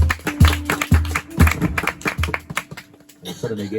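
A crowd at a church worship service claps in a steady rhythm, about two beats per second, while voices speak and sing over the clapping.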